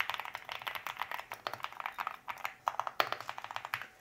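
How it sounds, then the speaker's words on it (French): A custom keyboard with a plexiglass cover being typed on, producing quick, close, rattling keystroke clicks in uneven bursts with a few heavier taps like a spacebar. "Et ce clavier là a une autre spécificité, c'est que celui-ci sonne différemment et le son est vraiment incroyable."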